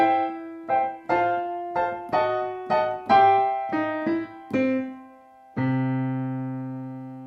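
Blues piano chords, each struck twice, a bright rhythmic sequence of repeated chords ending on a longer sustained chord that rings out.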